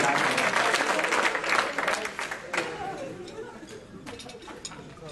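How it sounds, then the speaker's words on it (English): Audience applause fills a hotel ballroom during a furry convention's guest-of-honor roast, a dense clapping wash that swells and then thins, with scattered voices mixed in. "Trey, all this applause is for you."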